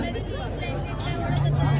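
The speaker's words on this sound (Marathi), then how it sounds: "जाम जाम गर्दी आहे" A dense crowd packs a village palkhi procession, steady loud babble of many voices close around with traffic rumble underneath and no single voice standing out.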